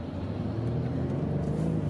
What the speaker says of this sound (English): when you rev on it, it does run out of steam just a little bit towards the top of the RPM band